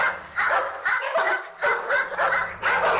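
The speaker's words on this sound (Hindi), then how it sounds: "अंधेरे में कुत्तों की चमकती हुई आंखें और गुर्राने की आवाजें किसी पत्थर दिल को भी डरा देती।" Several dogs bark and growl in the dark as a sound effect in a horror story, repeated bursts of close, loud barking with short gaps and no speech.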